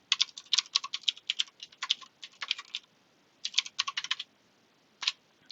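Code being typed on a computer keyboard in a quiet room: close, crisp key clicks in rapid irregular bursts, pausing briefly between runs, with no talking.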